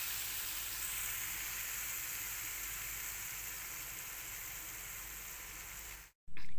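Ingredients fry with black pepper in a pan for a Chinese platter, giving a soft, steady sizzle that stays even throughout and cuts out abruptly near the end.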